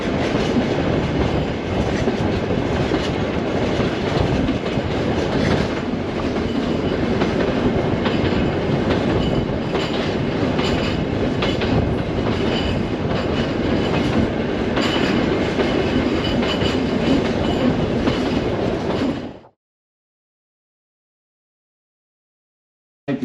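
A rail motor runs steadily on the tracks in the Gulf of Carpentaria region, with a continuous loud rumble and clatter for about twenty seconds before it cuts off abruptly.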